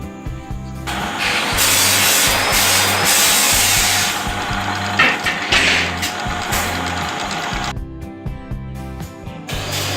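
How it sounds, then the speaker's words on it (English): A power drill whines loudly for several seconds, grinding steadily into a steel plate, then cuts out, with machine hum before and after. "before that we will drill a hole"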